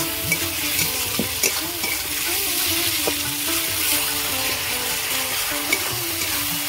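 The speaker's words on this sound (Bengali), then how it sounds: "টমেটোগুলো আমি ভেজে নিয়েছি।" Chopped tomatoes with salt fry in a pan for a Bengali fish curry, a steady dense sizzle close up, broken by occasional stirring taps and scrapes.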